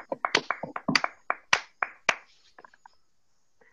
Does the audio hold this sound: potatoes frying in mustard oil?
no